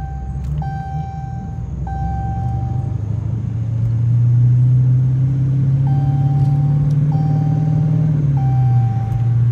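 Repeating seatbelt warning chime inside a Dodge Challenger R/T, a steady series of clear electronic tones sounding in groups over the low rumble of the engine and road noise while driving.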